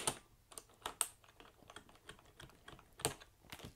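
Plastic clicks and taps as a wire keycap puller wiggles a keycap off a mechanical keyboard with Cherry MX switches; a quick run of small, close clatters, with a few sharper snaps standing out.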